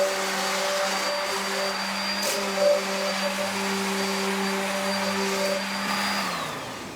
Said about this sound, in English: I'm going to use my orbital sander to clean the edges of the boards